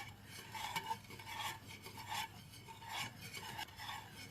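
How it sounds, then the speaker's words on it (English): A spoon stirs mermaid jello mixture in a bowl, soft rhythmic scraping and swishing strokes repeating close and quiet, no voices. "And we stir."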